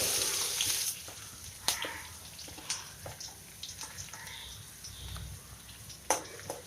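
Mustard seeds and chopped onion fry in oil in a pan for chilli pickle, giving a soft continuous sizzle with scattered pops and a few sharper crackles, fairly quiet.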